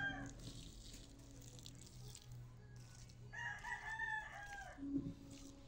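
Backyard chickens with a rooster crowing loudly nearby, its long cock-a-doodle-doo rising near the end and followed by a short cluck, over a steady low hum and quiet farmyard ambience.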